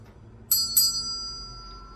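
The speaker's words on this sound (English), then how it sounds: "ring the notification bell for all notifications" Notification bell sound effect: two quick bright dings in close succession, each ringing on with a clear sustained tone that slowly fades over a quiet background.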